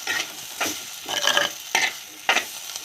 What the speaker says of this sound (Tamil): இப்போ அதை நல்லா மிக்ஸ் பண்ணிக்கலாம் இது எண்ணெயிலேயே நல்லா மிக்ஸ் பண்ணி விடணும்